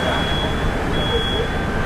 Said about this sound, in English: Crews sift through the damage to the faint sound of a fire alarm.